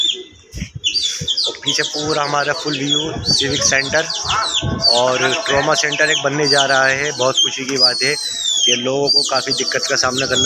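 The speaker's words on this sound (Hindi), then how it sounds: "उड़ा रहे हैं अपने कबूतरियों को" Pigeons flown from a rooftop in Old Delhi, with steady chirping and calls of birds close by, continuous under someone talking throughout.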